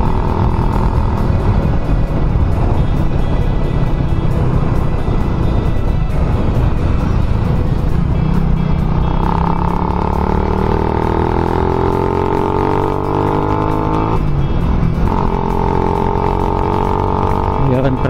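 A rebuilt motorcycle engine idles and revs steadily, loud and close, with sustained rising and falling engine tones and no talk.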